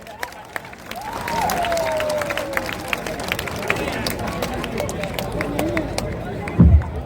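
An audience at the Jan Suraaj founding convention applauds to welcome someone to the dais. The clapping is a steady, dense patter running the whole time beneath someone speaking over an amplified system.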